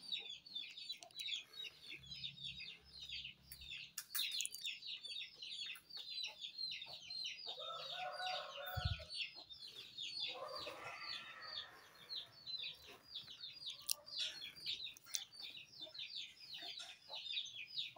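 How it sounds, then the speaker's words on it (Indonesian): Many chickens gathered close by, clucking and calling in a busy, overlapping chorus while begging for food, with occasional wing flaps and brief voices and laughter mixed in. "ayamnya banyak ngumpul di situ. Ya. Minta makan."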